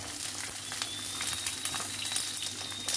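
Sliced onions dropped into hot oil with ginger and garlic in a pan for chilli idli, giving a steady, close sizzle with fine crackling pops and no talking.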